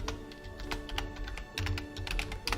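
Quick, close clatter of typing on a computer keyboard: a short burst of crisp keystrokes with a few heavier key hits, no voices.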